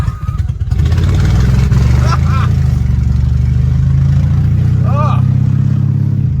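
The engine of a Mercedes W123 car runs after a jump start, a loud, close, steady idle rumble with a brief rev near the start, while people talk and exclaim over it.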